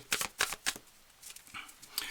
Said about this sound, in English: I'm going to shuffle for a few more moments.